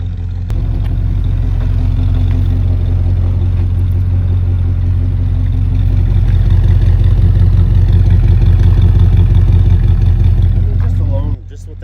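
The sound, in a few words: 1968 collector car engine idling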